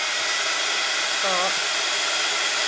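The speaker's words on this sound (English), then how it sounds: "So let me grab my heat gun, because we do really need to dry this." A heat gun blows steadily up close while drying a small paper craft art journal, a loud continuous airy roar throughout, with a brief spoken word over it.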